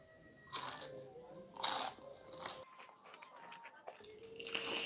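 Crunchy cheese sticks being bitten and chewed up close, with two loud crisp crunches early on followed by quieter chewing and small mouth sounds; no talking.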